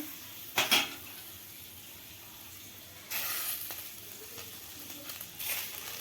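An egg fries in a pan for egg pitha, a soft sizzle under brief clinks and scrapes of utensil against the pan, with a few louder bursts of crackling.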